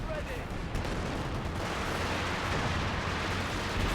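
Artillery barrage in the real-time strategy game Company of Heroes 2, a dense continuous rumble of distant shell impacts and booming fire that holds steady for the whole stretch without letup.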